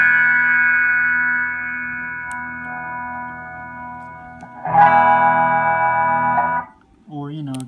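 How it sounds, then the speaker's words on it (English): Electric guitar played through a Boss GE-7 equalizer pedal with a hi-fi mod, set for a narrow, radio-like tone. Sustained chords ring at a steady level, then a louder, denser strum swells midway before cutting off. "once you do this mod, I mean, you can really get like a radio sound."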